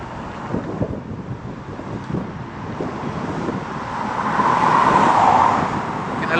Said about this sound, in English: very windy, very windy